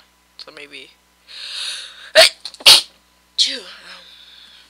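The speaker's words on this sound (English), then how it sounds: "That was a sneeze." A single abrupt sneeze bursts out loud and close between stretches of someone talking, with a second sharp burst following right after.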